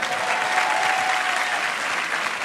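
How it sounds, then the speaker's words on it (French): A theatre crowd at a 1995 French stand-up comedy show breaks into full, steady applause, a thick and close wall of clapping that holds for the whole moment without speech. "Mon neveu, David, on peut l'applaudir."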